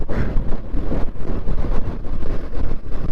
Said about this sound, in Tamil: காற்று விறுவிறுன்னு அடிக்குதுங்க